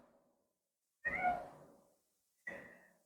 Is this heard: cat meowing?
yes